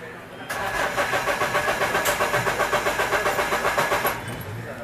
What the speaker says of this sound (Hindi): वापस आपको एक बार मैं सेल्फ मार के दिखाता हूँ।